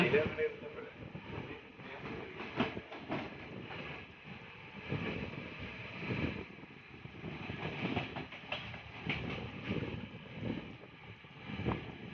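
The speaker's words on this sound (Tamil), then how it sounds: "இப்படியே ரயில் வந்து நிக்காம போய்கொண்டிருக்கு" A Jaffna to Colombo express train in Sri Lanka rumbles steadily along with rhythmic rail clatter and rushing wind noise, continuous throughout at moderate level.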